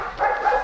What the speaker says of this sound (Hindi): बोरोन दरअसल इनका कुत्ता है, तो उसको लग गया कि ये सब लोग कहीं जा रहे हैं तो भौंकना शुरू कर देता है।